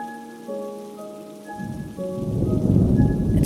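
Heavy rain with thunder, a low rumbling roar that swells beneath sustained musical tones and grows louder toward the end.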